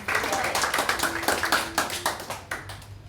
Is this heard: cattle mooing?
no